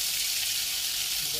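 Ground spice paste sizzles in hot oil in a home kitchen, a faint, even hiss of frying that runs steadily for the whole moment.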